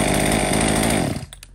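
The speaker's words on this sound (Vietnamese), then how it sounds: "Anh em nghe thì xem tiếng máy động cơ của nó chạy thì có êm không ạ?" Used Japanese chainsaw engine running, a loud close buzzing two-stroke whine that holds steady and then cuts off abruptly near the end, leaving a few faint clicks.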